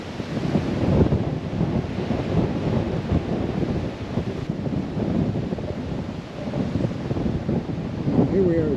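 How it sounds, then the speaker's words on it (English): Gusty wind buffets the microphone at the Pu'uhinahina Lookout on Kauai, a steady low roar rising and falling throughout with no break. "Of course, it's a little bit windy."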